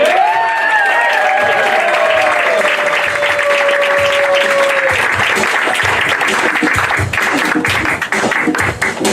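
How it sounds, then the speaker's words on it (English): A crowd at a live show bursts into sustained applause and cheering, dense clapping filling the room, loud and close, with a high whistle and whoops early on before the clapping carries on alone. "please give her your support, your round of applause, and make some noise for my friend Miriam Al-Satan"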